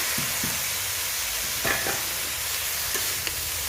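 Prawns and Malabar spinach fruits sauté with spices in a pan, a continuous close sizzle broken by several stirring scrapes and clacks of a spoon against the pan.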